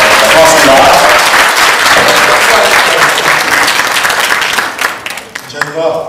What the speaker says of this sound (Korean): 이 세 분에게 박수 크게 주시고요